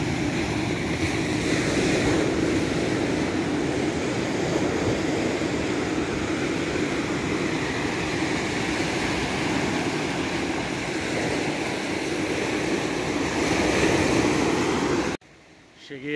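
Ocean waves wash onto the beach at the point of Praia Vermelha in Ubatuba, a continuous broad rushing surf mixed with wind buffeting, steady and fairly loud before cutting off abruptly near the end.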